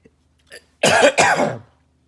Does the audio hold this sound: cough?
yes